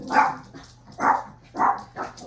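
Dogs bark in short bursts, four sharp yaps spaced about half a second apart, fairly close and loud with no talking.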